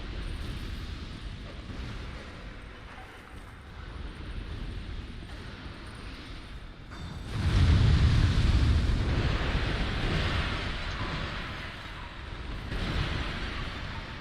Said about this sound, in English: That was a big explosion, Travis. There's a barrel that exploded.